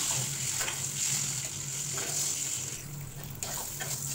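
Boiled eggs frying in a wok, a soft continuous sizzle with faint stirring swishes, fairly quiet and close, with no voices.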